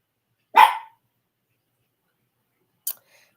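Puppies giving two short, sharp barks, one clear yelp followed by a fainter one a couple of seconds later, close by in an otherwise quiet room.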